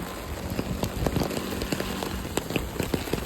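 Steady rain in Japan patters on a surface, with scattered louder drops tapping irregularly over a dense wash of noise.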